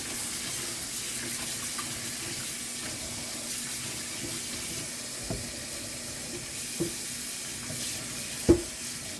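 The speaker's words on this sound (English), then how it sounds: "So now this is the third washing that I will be doing." Leafy greens rinsed under running tap water: a soft, steady rush with a few dull knocks from handling near the end, and no voices.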